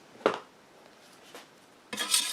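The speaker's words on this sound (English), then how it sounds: "Mix the stain up one more time." A can of wood stain being stirred for staining a wooden Master Sword replica, with a few close scraping knocks of the stirrer against the metal can and a longer rubbing swirl at the end, with no talking.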